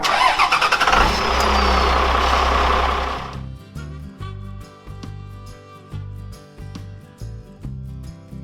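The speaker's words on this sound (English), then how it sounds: "So let's get the truck fired up and pull forward." A mini semi truck's engine cranks loudly for about three seconds, then catches and settles into a rhythmic, lumpy idle with regular pulses, close by.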